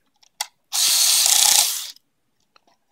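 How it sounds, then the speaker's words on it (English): A power screwdriver tightens the rear screw of a dual drive bay receiver in a RADAR studio recorder: a single close, loud whirring burst of a little over a second with a ratcheting edge, framed by faint clicks. "Now I'm going to tighten up the back one."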